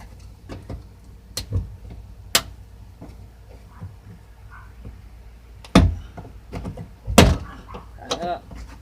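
A door panel is pried off a Chrysler PT Cruiser, giving scattered sharp snaps and thunks as plastic clips pop loose, with two louder cracks near the end amid quieter handling noises.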